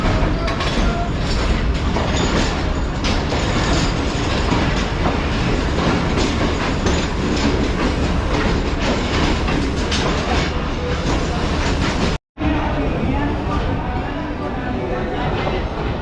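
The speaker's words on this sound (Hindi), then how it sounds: "1:03 पर हमारी ट्रेन जो है वो डिपार्ट कर रही है रोडी जंक्शन रेलवे स्टेशन से" The Pakistan Express departs Rohri Junction station with a loud, continuous rumble and rhythmic wheel clatter from on board, briefly cutting out near the end before resuming.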